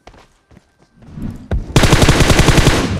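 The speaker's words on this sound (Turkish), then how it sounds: "Tepeden de birileri sıkıyor." Rapid automatic gunfire in PUBG Mobile, a dense burst of shots that starts loud and close after a few quieter single pops and footstep-like taps, continuing steadily to the end.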